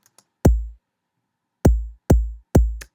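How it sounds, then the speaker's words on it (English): Four deep, punchy electronic kick drum hits, synthesized for a future bass track, with booming low-end tails: one alone, then three in a quicker run after a pause. "So the kick sounds like this."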